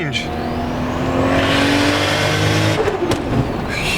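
Toyota 2JZ-engined car pulling hard under turbo boost, its engine note rising steadily and loud for a few seconds before dipping as if shifting, with a voice talking over it.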